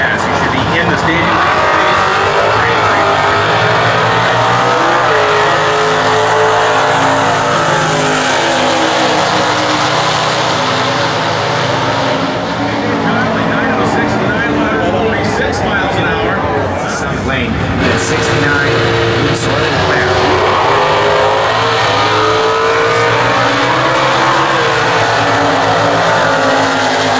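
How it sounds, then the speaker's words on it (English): Stock eliminator drag cars race at the 60th US Nationals in 2014, a continuous loud engine roar rising and falling as cars launch and pass, with tire noise and an announcer speaking over the racket throughout. "Now he is running stock eliminator, hardcore drag racer."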